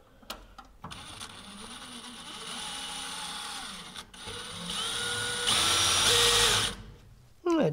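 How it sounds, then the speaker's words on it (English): A power drill bores a pilot hole through the steel of a Zenith CH 750 CruZer kit aircraft fuselage, running steadily and loud for several seconds with a rising pitch near the end, while a person speaks briefly. "drill right through, right out to the outside steel, and at least get a pilot hole started."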